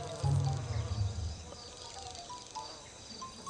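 Flies buzzing close by in a garden, a strong low drone for the first second that fades into fainter, intermittent buzzing.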